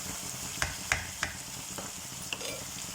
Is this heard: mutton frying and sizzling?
yes